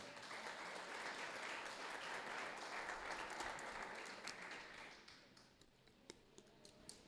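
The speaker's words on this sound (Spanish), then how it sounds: "Un aplauso para Mateo." A church congregation at a worship service applauds for a man called up front, a steady, fairly distant wash of clapping that thins out after about five seconds into scattered claps.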